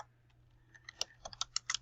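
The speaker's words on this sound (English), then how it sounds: "And then you start typing" Fingers tap on a computer keyboard, a faint, close series of quick uneven key clicks building into a short burst of typing.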